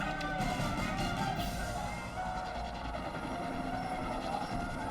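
Medical helicopters flying the critically injured from a collapsed terrace to the mainland make a continuous engine drone with faint rotor pulsing, steady and moderately distant.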